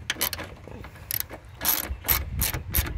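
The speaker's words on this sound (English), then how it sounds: "you're going to need a 1/4 inch ratchet with a 1/4 inch extension and a 7mm socket" Close, crisp clicking of a 1/4 inch ratchet with extension and 7mm socket working a bolt on a Ford F150 turn signal assembly, in short uneven bursts of ratchet pawl clicks.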